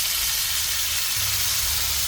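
Butter knobs sizzle and spit loudly in a hot pan beside a searing steak, a steady close frying hiss with no break.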